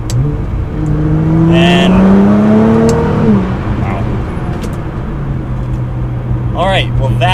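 A tuned Nissan GT-R accelerates hard in race mode, its engine note climbing steeply then dropping at a shift before settling into a steady drone, close and loud, with a brief exclamation from someone inside.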